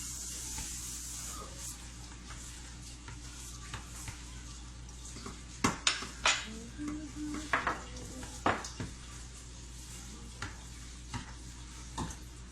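Burger seasoning being mixed in a bowl in a home kitchen, quiet irregular scraping and clinking of utensil against the bowl, with a few sharper taps, over faint steady background hum.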